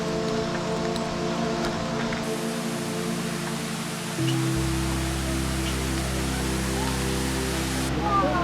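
Waterfalls along a Mexican coastline produce a steady, broadband rushing roar that holds for the whole stretch, with a low hum underneath and some faint background activity.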